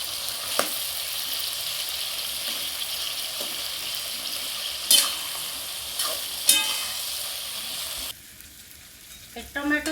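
Tomato pickle cooking with turmeric in a pan, a steady broadband sizzle throughout with a few sharp stirring scrapes, then quieter near the end with soft clinks.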